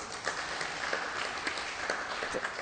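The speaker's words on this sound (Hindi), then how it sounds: "हाँ ताली बजा दीजिए।" Audience applause at an ISKCON discussion gathering, a dense, steady patter of many hands clapping throughout, moderately loud.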